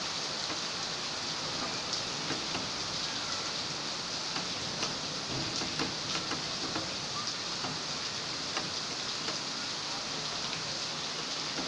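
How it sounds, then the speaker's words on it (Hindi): Heavy rain pours steadily outdoors, a dense continuous hiss of drops striking surfaces with occasional sharper patters, loud and unbroken throughout with no talking. "अब मैं बारिश में नहाने जा रही हूँ,"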